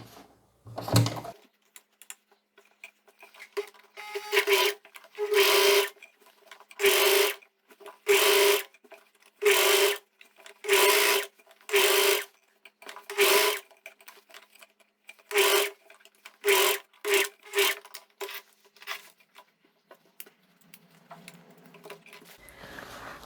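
A sewing machine stitches a hem on knit fabric for a midi dress, running in about a dozen short, steady bursts separated by brief pauses, clear and close with no talking.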